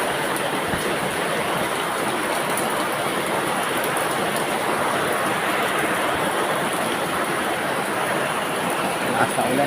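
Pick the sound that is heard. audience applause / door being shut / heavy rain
heavy rain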